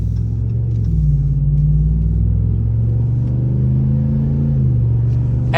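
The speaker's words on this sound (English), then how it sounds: "But I'll listen to the Hemi." A Ram 1500 Laramie Sport's Hemi V8 rumbles deep and loud up close, its low idle note rising and falling as it revs, with no talking over it.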